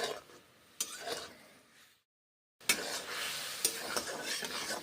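Snail (gugli) curry being sautéed in a pan, with a close crackling sizzle and the scrape and clink of a stirring spoon, cut by a brief silent gap before the frying resumes louder.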